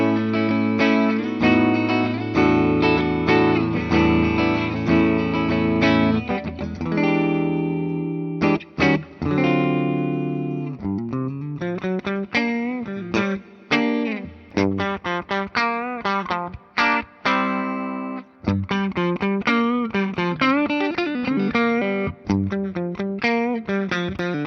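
A 1983 Gibson Les Paul reissue electric guitar in the middle pickup position, played with overdriven distortion: sustained chords, then choppier riffs and single-note runs with brief pauses, loud and alone.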